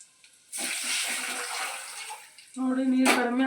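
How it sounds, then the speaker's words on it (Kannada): Water is poured from close by into a pot of rasam with fried tempering, a steady splashing rush lasting about two seconds, then a brief hiss and a louder gurgling burst as the pouring ends. "ಇವಾಗ ನೀರನ್ನು ಹಾಕ್ಬಿಡೋಣ."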